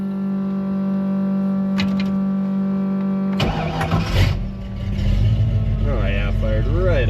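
A Ford Mustang Foxbody engine cranks briefly and then fires, settling into a loud, rough idle close by after a steady hum beforehand.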